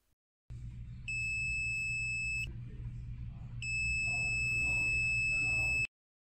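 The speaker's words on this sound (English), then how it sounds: "I set my multimeter to continuity mode. If a circuit is working, you should hear a beep." A multimeter in continuity mode emits two sustained electronic beeps, each a steady high tone lasting a second or two, separated by a short gap, over low background hum.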